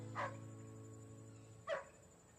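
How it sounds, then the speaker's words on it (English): A dog gives two short, faint barks about a second and a half apart, heard at a distance over a low steady background hum. "Mary Jo, call off the dog."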